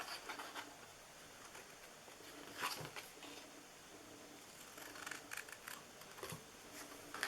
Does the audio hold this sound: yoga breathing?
no